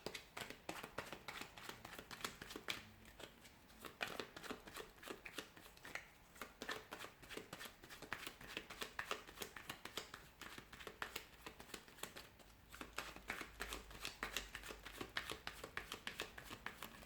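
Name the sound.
shuffling tarot cards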